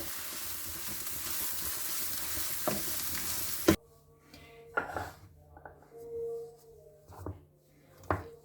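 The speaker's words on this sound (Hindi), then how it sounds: "इसी में ये मैश किए हुए आलू मैं इसमें डाल दूंगी। इसे अच्छे से मिक्स कर लीजिए।" A spoon stirs and scrapes mashed potatoes in a pan for samosa filling, with a soft sizzle early on, then scattered close scraping and clinks against the pan in a quieter stretch.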